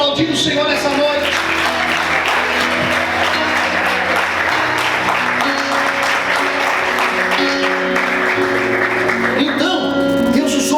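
Church congregation applauding during an evening service, dense sustained clapping filling the room for about ten seconds while music plays underneath.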